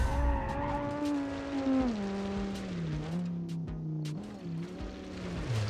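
A 1985 rally car in BeamNG.Drive slides and skids, with a steady engine drone whose pitch drops and then levels off under sustained tire noise, loud and close throughout, with no talking.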